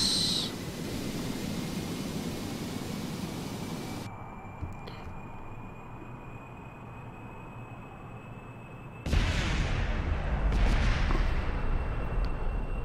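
Missiles released from a fighter plane in Kerbal Space Program: a steady roaring rush that cuts off abruptly, leaving a quieter hum with a faint tone, before a loud noisy burst of rocket thrust returns.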